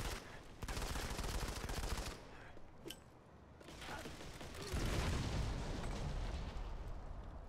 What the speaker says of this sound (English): Oh man, that was a sick grenade.